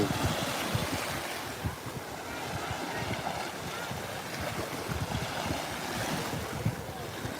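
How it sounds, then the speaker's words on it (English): A jet ski runs out on windy ocean water off a turquoise beach, its engine drone blended into the constant roar of surf and heavy wind noise on the microphone. "Jet ski."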